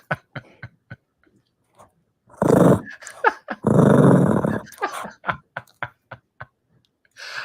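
A small dog growls and snarls in bursts up close, with short clicks and snaps between two longer, louder growls.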